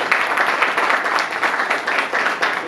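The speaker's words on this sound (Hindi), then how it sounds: "एक बार जोरदार तालियां।" A theatre audience applauds after the play Hawalaat at the 18th Natsamrat Natya Utsav 2021, producing dense, steady clapping that fills the hall throughout.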